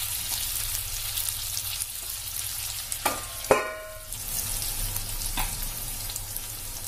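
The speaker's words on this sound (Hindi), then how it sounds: "दो मिनट और पकाएंगे हम सब्जी को भी।" Potato and capsicum curry fries in a pan with a continuous close sizzle, broken by a couple of sharp stirring scrapes and a brief clatter midway.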